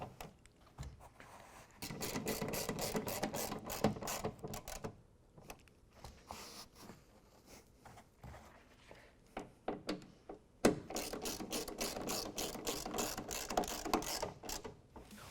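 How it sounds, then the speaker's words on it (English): A ratchet clicking quickly in bursts as it snugs down bedliner screws in a truck bed, nearby and fairly quiet, with pauses between runs of rapid pawl clicks. "We're going to go ahead and tighten down the screws just until they get nice and snug."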